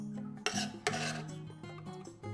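A spoon stirring spicy kebab sauce in a bowl, giving a continuous close-up scraping and rubbing with a couple of sharp clinks against the side.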